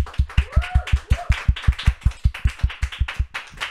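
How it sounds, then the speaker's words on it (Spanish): Rhythmic, evenly spaced claps at a church gathering, about five per second, sharp and close, with a brief faint voice-like tone partway through and otherwise no talk. "a quien recibimos con un fuerte aplauso."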